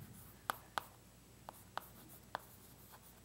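Someone writes on a board during an arithmetic lecture on Diophantine equations. Sharp, faint strokes tap out at irregular intervals against a quiet room, with no speech.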